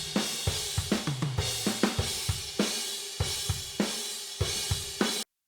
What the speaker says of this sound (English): Pretty nice natural sounding overheads.